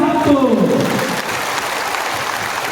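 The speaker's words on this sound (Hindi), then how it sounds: "तो जोर से ताली दो।" Crowd at a political rally, BJP alliance in Bodoland, applauding in a sustained loud wash of clapping, with a voice speaking over the start.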